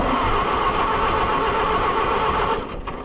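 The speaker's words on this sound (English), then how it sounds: "What are the chances that it's going to fire up and run?" An old, rusty tractor engine is cranked over and tries to start, giving a steady, loud mechanical churning that holds for a few seconds before easing off near the end.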